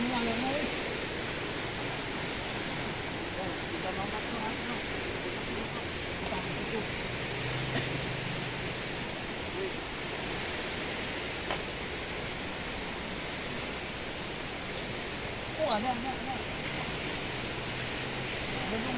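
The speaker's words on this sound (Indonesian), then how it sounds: "makin naik airnya makin ke atas makin ke atas airnya" Floodwater rushes in a steady, dense roar that holds evenly throughout, close and loud, with faint bumps and knocks now and then.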